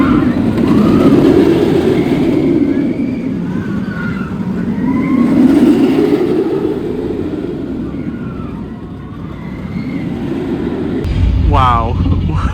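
Nemesis roller coaster at Alton Towers in Forbidden Valley, a loud continuous roar of wind and track rumbling that swells and eases over the ride, with riders' voices and screams mixed in and a sharp clatter near the end.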